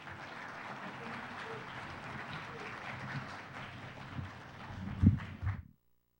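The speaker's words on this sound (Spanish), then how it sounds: "Le damos la bienvenida con un fuerte aplauso" Congress audience at an international constitutional law event applauding to welcome a speaker, a moderate wash of clapping heard from some distance, with a few louder knocks near the end before it cuts to silence.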